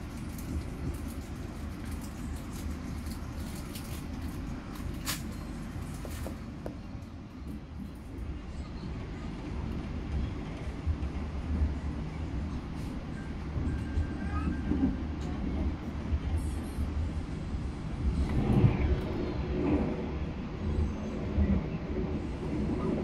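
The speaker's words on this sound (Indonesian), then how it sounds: "Baru saja berpapasan dengan kereta api Argo Sindoro." Rumble of a passing train heard from aboard the Argo Sindoro as it crosses a red-and-blue liveried locomotive near Buaran, Indonesia; a steady loud rolling roar that swells toward the end, with no speech.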